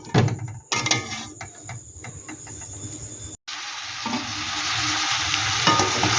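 Sweet corn cooks in a covered pan over low heat, giving a steady soft sizzle and stirring clatter that swells into a brighter, continuous frying hiss after a brief pause.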